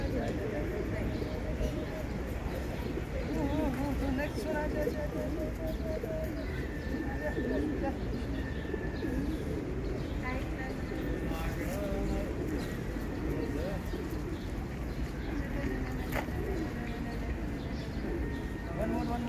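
Pigeons cooing steadily outdoors in Stavanger, Norway, with repeated soft calls and occasional chirps, while someone talks over them throughout.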